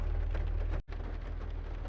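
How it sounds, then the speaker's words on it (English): Heavy pouring rain outdoors, a dense steady hiss with a low rumble, broken by a brief dropout partway through. "No, it's pouring rain."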